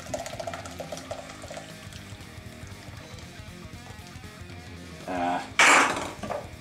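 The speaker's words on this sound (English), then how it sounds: "Put the beer in the pot." Cheap beer pours into a cooking pot in a short splashing gush near the end, close and fairly loud after a quieter stretch with faint background noise.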